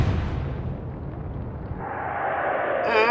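Naval gunfire in the Atlantic Fleet video game, a heavy booming blast with a long rumbling roll-off, followed by a rising whoosh at the end.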